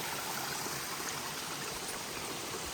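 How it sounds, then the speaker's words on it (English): Water trickles steadily over and under a wooden spillway beside a hiking trail, a constant faint splashing wash with no pauses and no voices. "the water just trickles down and then over this and under this wooden spillway"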